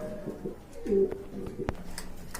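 Pigeons coo at a pigeon market, with one clear, close throaty coo standing out amid soft chatter and background bustle.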